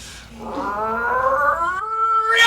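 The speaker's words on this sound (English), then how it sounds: "there, standing in the moonlight, were a couple of ornery cats" Cats yowl as a sound effect in a Halloween story, one long, loud, drawn-out caterwaul that rises and wavers, with a sharp cry at the end and nothing else heard.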